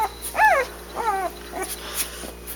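Several young puppies whimper and yip up close in short, high, wavering cries spaced across a couple of seconds, with some faint background hum.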